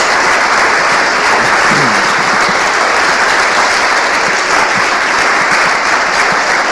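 Sustained, dense applause fills a church worship service, a loud, steady wash of clapping from the congregation that runs unbroken throughout.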